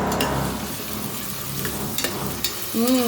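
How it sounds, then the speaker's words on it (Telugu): Dried coconut and poppy seed paste sizzling in hot oil, a soft continuous crackle with a little stirring and a faint voice near the end. "ఆయిల్లో వేయగానే అది కొంచెం వేగుతుంది"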